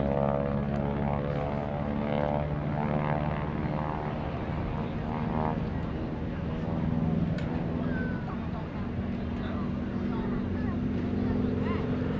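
A propeller aerobatic airplane drones steadily and loudly through a barrel roll at an air show, its pitch shifting slightly as it maneuvers, with voices faintly underneath.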